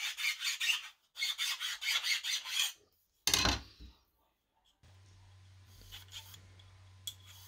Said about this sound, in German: muss die Bohrung mit einer Rundfeile nachgearbeitet werden.